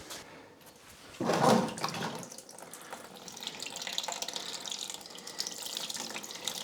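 Engine coolant gushes out suddenly during a water pump replacement on an Audi A4 B5 1.8T, a brief loud splashing burst followed by a softer continuous trickle and dribble.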